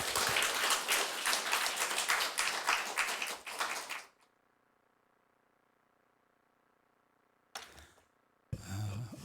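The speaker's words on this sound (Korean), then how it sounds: "둘째 시간 김동호 목사님 다시금 모실 때 박수로 맞이하도록 하겠습니다" A church congregation at a revival meeting applauds to welcome a pastor, brisk clapping for about four seconds that stops abruptly, leaving a low hum, then brief bursts of noise near the end.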